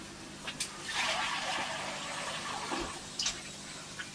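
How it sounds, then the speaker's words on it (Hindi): Water poured into a pan of Indian-style egg curry after the egg masala is fried, a steady splashing pour running close and fairly loud for about four seconds, with a couple of brief clinks. "आप इसमें डाल दें पानी"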